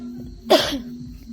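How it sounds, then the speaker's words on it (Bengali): A single short, sharp cough from a woman with a cold stands out against a quiet background with a faint steady hum. "এদিকে কাশিও হচ্ছে"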